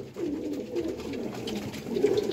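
A breeder pair of pigeons coos softly and close by in low, rolling repeated calls, with no talk over them.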